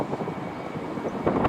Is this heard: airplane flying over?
yes